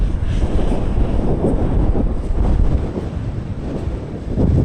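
Strong desert wind buffets the microphone in a loud, continuous low rumble with gusting surges throughout, no voices present.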